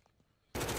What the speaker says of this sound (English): Shooting right at you, Dan!